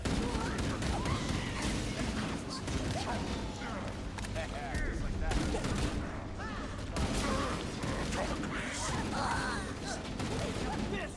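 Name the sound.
Marines firing guns in Halo video game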